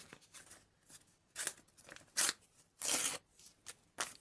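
Crinkly plastic packaging crackling and tearing open in several sharp, close bursts, with quiet rustling in between.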